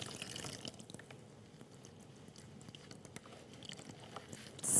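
Water dripping and trickling from fresh homemade tofu curds as they are squeezed out by hand, a soft, steady patter of small drips with a louder splash at the end, no talking.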